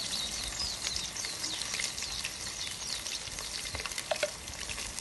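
Chicken pieces frying in ghee give off a continuous, even sizzle and crackle, close and moderately quiet, with no voices.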